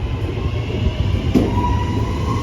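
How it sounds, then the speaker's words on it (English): West Midlands Railway Class 323 electric unit on a Lichfield Trent Valley to Bromsgrove service passes through University station in Birmingham, a steady close rolling rumble with a faint wheel squeal throughout, with no voices. "there goes 323220 on the 1101 West Midlands Railway service to Bromsgrove"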